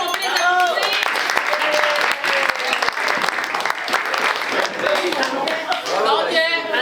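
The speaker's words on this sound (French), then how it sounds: "merci aux deux équipes, on peut les applaudir." Crowd at a neighborhood party applauding two teams, sustained clapping with cheers and voices mixed in throughout.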